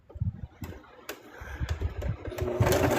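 A sewing machine stitches a plush toy: short mechanical bursts of uneven stitching that rise and fall, close by, with a louder whirring run at the end.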